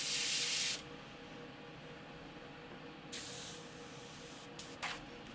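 Short bursts of airbrush spray hiss on and off, a sharp spray at the start, then fainter puffs, in a quiet room, spraying AK Real Color paint.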